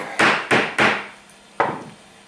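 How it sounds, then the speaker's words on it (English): A motorcycle tank part from a Kawasaki KLT 200C under restoration is tapped four times, three quick knocks in a row, then a pause before a final one, each close, sharp and loud with a short ringing decay. "Give that a tap."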